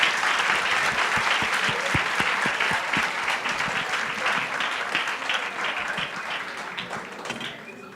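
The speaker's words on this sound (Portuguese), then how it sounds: "Salve de palmas para ele." A seated audience at a law event in Brazil bursts into sustained applause, dense overlapping claps that hold steady for several seconds before thinning out toward the end.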